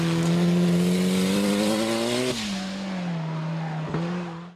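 A Renault Megane RS race car climbs a wet hillclimb course at Knysna, its engine note droning loud and close, rising through the revs, then dropping with a gear change before climbing again.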